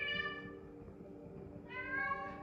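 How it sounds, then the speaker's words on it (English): A cat meows loudly and repeatedly during a guided meditation session, with long drawn-out vocal calls close to the listener, a short dip in the middle and then a renewed, louder meow, with no talking. "And Luna, the meditation cat, is very verbal tonight"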